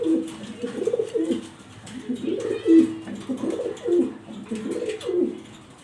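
A female pigeon coos in repeated rolling phrases, near and steady, with soft gaps between each low burbling call.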